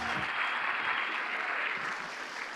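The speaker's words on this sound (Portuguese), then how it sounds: "Você pode aplaudir o Senhor aonde você está?" A church congregation claps for the Lord during a leadership training session, a sustained wash of applause heard at a moderate distance, fairly soft and even throughout.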